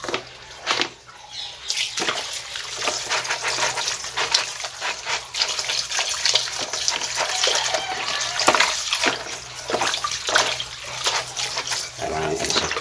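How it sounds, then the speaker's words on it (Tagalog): Banana heart (banana blossom) being rinsed under a running tap in a kitchen sink, a steady broadband gush of water that runs continuously with small splashy variations and no talking. "then hugasan yan sa running water"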